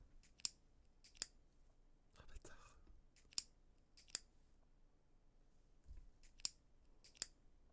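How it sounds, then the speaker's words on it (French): Ballpoint pen clicked repeatedly, giving eight or so sharp, close, quiet clicks at uneven intervals over a soft background, with brief faint whispering in between. "c'est un stylo que tu cliques"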